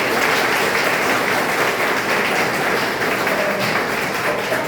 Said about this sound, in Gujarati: તો આપણે સૌ તાળીઓના ગડગડાટથી એને વધાવી શકીએ